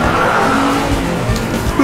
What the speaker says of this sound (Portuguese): Eu nunca dirigi um carro tão rápido como esse.